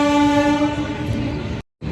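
The Amrit Bharat Express sounds a loud, sustained horn as it runs on its inaugural trip from Vijayawada to Renigunta, followed by rolling rail noise and a brief dropout.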